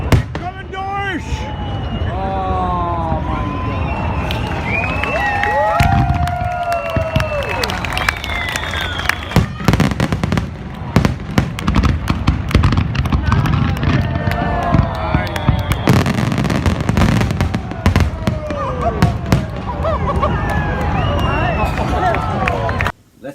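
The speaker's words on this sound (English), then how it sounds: "The magic of Japanese fireworks" Japanese fireworks, a continuous barrage of loud booms and crackling bursts with whistling rockets, accompanied by crowd noise, cheering and scattered voices.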